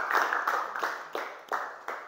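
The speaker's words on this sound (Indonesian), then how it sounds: "Tepuk tangan sekali lagi untuk kelompok sapi yang semangat." Schoolchildren in a classroom clapping for a group of classmates, a short burst of brisk, dense applause with rhythmic surges, close and fairly loud, no talk over it.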